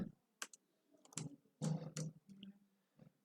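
Python code being typed on a computer keyboard: a handful of quiet, sparse key clicks in irregular bursts, close by in an otherwise near-silent room.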